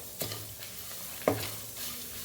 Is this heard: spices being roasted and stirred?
yes